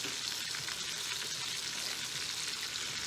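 Oxtail pieces sizzle and fry in a pan as they brown, a constant dense crackling hiss with no talk.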